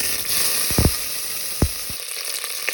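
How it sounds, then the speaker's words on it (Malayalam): Curry leaves sizzle in hot oil with already-popped mustard seeds for a mango and green chili pickle, a steady frying hiss broken by a few sharp crackles and pops, close and alone. "കടുക് പൊട്ടി ചേർന്നിട്ടുണ്ട് ഇതിലേക്ക് കറിവേപ്പില ചേർത്ത് കൊടുക്കാം"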